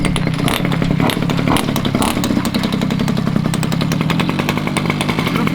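Peugeot 103 SP moped engine running loudly and close, a steady buzzing two-stroke-style drone with rapid rattling pulses and clatter throughout, no talk.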